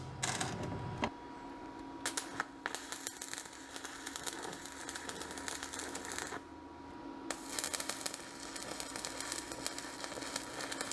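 Steel parts for a bench vice being tack welded, bursts of harsh crackling arc buzz lasting a few seconds each, separated by short pauses, close and fairly loud.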